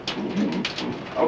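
Pigeons cooing in a loft kept by a city pigeon fancier, a soft steady murmur of overlapping low coos with a few brighter flutters, fairly close and continuous.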